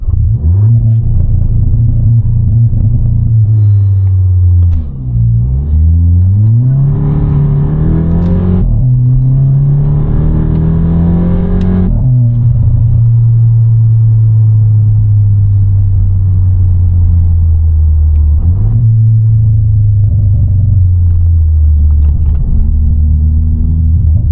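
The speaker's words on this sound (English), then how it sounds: "let's listen to the launch control sound" A VW Polo GTI AW facelift with 280 hp sits on launch control, its engine giving a loud, close, deep rumble. It revs up in two rising surges, then settles back to a steady idle.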